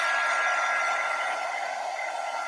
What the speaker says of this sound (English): this heating tool just to heat it a little bit.